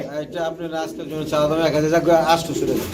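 Pigeons coo in soft rolling bursts at a bird market in Mirpur, Bangladesh, while someone talks over them throughout.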